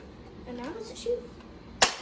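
A Nerf Elite 2.0 Flipshots toy blaster fires one sharp, close snap near the end, right after someone briefly speaks.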